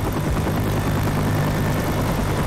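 Loud, constant helicopter rotor thudding and engine roar from a helicopter in the video game Left 4 Dead 2 fill the scene, close and unbroken throughout.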